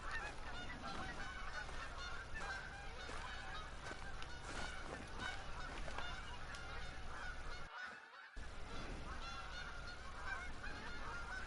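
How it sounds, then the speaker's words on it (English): Geese honk loudly and continuously from a flock, calls overlapping throughout with a brief near-silent gap, in the hunting game theHunter: Call of the Wild on the Hirschfelden map during a red fox hunt. "I just wish these geese would shut the heck up."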